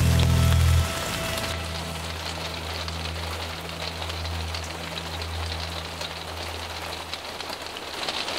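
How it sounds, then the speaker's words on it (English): Steady rain drumming on a van roof, a dense continuous patter with a low hum of running computers underneath, after a brief louder burst at the start. "You can hear the rain on the roof"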